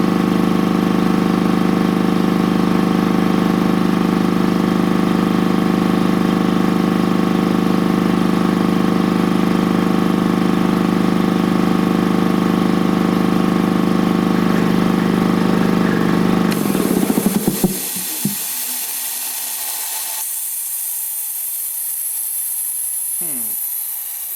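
An Ingersoll Rand T30 2475N7.5 air compressor running loud and steady as it builds pressure, its constant drone and hiss cutting off near the end to leave a quieter hiss with a few clicks.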